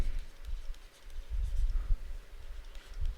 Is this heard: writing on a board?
yes